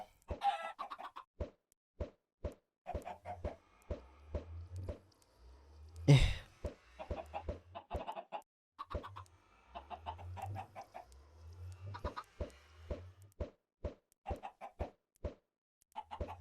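Minecraft chickens in the FTB Infinity modpack clucking repeatedly in short, evenly spaced bursts, with soft low thumps between them and one louder crackling burst midway.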